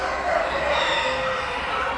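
An Orpington rooster at a poultry show crows once, with a drawn-out call over a steady background hum of nearby birds.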